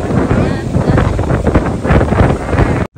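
Strong summer wind gusts across a beach lined with coconut palms, buffeting the microphone in a loud, continuous roar with fluctuating rumble and no pause.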